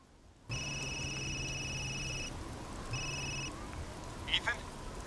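A phone rings inside the horror game Resident Evil Village, a steady electronic ring in two bursts, fairly loud over a low game ambience, followed by a brief faint chime.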